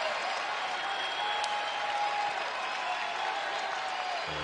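A home crowd at a college basketball game between UAB and Memphis applauds and cheers in a steady, dense wash of clapping that carries through the whole stretch, with faint voices mixed in.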